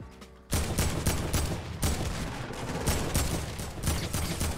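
Dense, continuous gunfire in Fortnite: Battle Royale, starting abruptly after a quiet moment and rattling on as rapid overlapping shots with regular louder accents, fairly loud and alone without talk.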